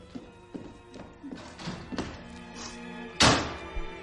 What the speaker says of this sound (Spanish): dando un portazo, salió de la casa.